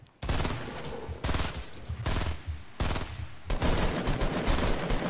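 Burst-fire weapon in Fortnite shooting in repeated rapid bursts, each a tight cluster of loud, close shots separated by brief pauses across the clip.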